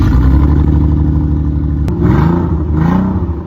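Car engine revving with the mufflers removed and a homemade DIY exhaust fitted, a loud, steady drone with short rises in pitch, heard close up and alone.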